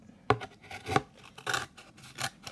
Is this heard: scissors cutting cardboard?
yes